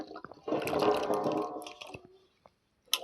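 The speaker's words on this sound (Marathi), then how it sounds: "पाण्यात टाकून हे धुवून घेऊ." Umbar fig fruits are washed by hand in water, giving close splashing and swishing for about two seconds, then a few soft drips before quiet.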